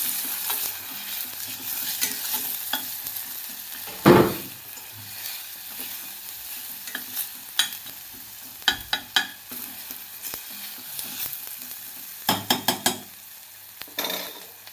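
Spices with red chili powder are stirred in a frying pan for a sprouted-bean mixed vegetable bhaji, making close, irregular scraping and clinking strokes over a continuous sizzle, alone and without talk.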